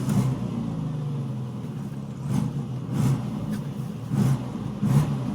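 An old barn-find Austin Maestro engine idles roughly on choke, giving a low, uneven rumble that lurches with periodic surges and stumbles.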